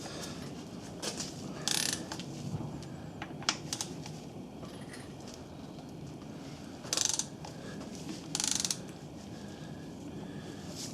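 A ratchet working on 13 mm conrod nuts of a Honda B18 engine bottom end: quiet clicking and mechanical clatter, with a few louder bursts of rapid ratcheting, close and faint with no talk.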